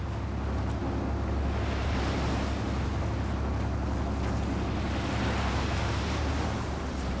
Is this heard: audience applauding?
no